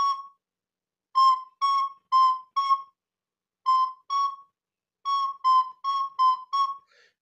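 A recorder plays the Detective Conan Italian theme as a melody of short, clear, separate notes in uneven groups with brief gaps, close and solo, with no voice.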